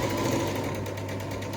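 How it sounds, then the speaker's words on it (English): Sewing machine stitching across a mini landscape quilt, a steady, fast, close mechanical whir with a continuous rattling hum through the short stretch. "So I've just sewn all the way across from one side to the other."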